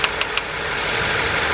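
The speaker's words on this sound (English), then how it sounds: "So engine is still running." BMW 750i engine idling during a 6HP26 transmission filter and fluid service, a steady close mechanical hum with three short sharp clicks near the start.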